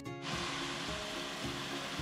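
Chopped tomatoes sizzle and sauté in a hot pan for tomato rice, a steady close, fairly loud frying hiss throughout with no talk.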